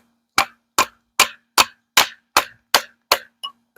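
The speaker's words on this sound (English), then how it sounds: "let's say you needed to come in here and baton this bad boy a little bit" A knife is batoned through a small wooden dowel with nine sharp, evenly spaced knocks about four tenths of a second apart, each a crisp close strike, the last one lighter.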